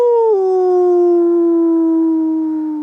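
A person imitates a wolf howl outdoors near woodland, one long loud sustained voiced howl that steps down slightly in pitch early on, then holds steady and slowly fades, heard alone.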